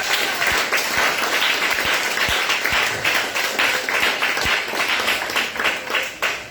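A congregation applauds during a church deliverance service, steady dense clapping filling the room throughout, with a few louder individual claps standing out near the front.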